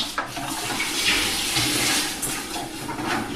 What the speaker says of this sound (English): You dunk it in water to cool it down.